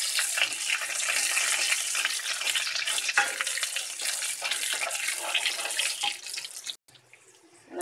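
Shrimp paste frying in oil in a pan, cooked over a high flame for a chili balado, gives a loud, steady, dense sizzle that runs almost unbroken before briefly cutting out near the end.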